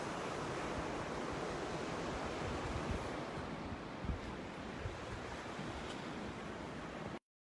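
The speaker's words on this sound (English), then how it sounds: "I'm sharing a sunset on the beach with you." Ocean waves wash steadily onto a beach at sunset, a continuous broadband surf roar with gentle swells and some wind rumble, no voices.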